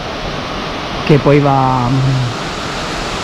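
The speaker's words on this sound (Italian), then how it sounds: "Là in fondo abbiamo già la nostra prima cascata" A mountain waterfall near Lamon in Belluno roars as a steady broad rush of water throughout, while someone talks briefly over it.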